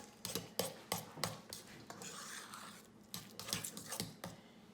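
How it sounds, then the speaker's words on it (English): A spoon stirs meatloaf mixture with cheese in a bowl, giving a quiet run of rhythmic clicking and scraping strokes, briefly pausing midway and then resuming. "Give it a good stir, mix it up."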